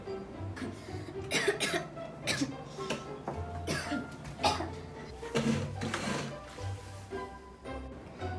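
A child's repeated coughing, close and fairly steady over several seconds, with faint clattering and background noise.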